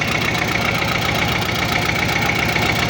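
A Xingtai 244 mini tractor engine, fitted with a car generator and tachometer, runs up to higher revs with a steady, close, rattling diesel knock and no talk over it.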